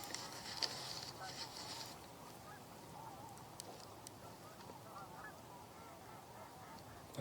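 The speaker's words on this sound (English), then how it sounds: "And some of the geese that are there" Geese honking at a distance over steady outdoor background noise, with a few sharper calls scattered through the stretch.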